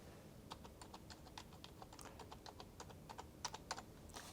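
Typing on an HHKB Professional Hybrid Type S Topre keyboard gives soft, muted, rounded keystrokes in a quick, uneven run, close and quiet.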